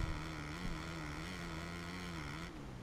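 Motocross motorcycle engine at an MXGP race at Matterley Basin, a steady droning hum with a slowly wavering pitch, held at even loudness throughout with no talk.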